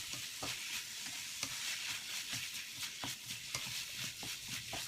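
Fish sizzles steadily as it is stir-fried in a hot pan while a utensil scrapes and taps against it in an irregular stirring rhythm, moderately quiet.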